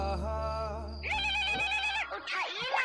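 A telephone rings in a comedy sketch, a steady electronic ringtone holding for about a second before other tonal sounds and voices take over, fairly loud and close.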